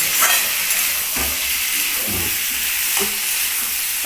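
Steady sizzling of papad frying in a pan, with a few soft stirring scrapes, close and continuous.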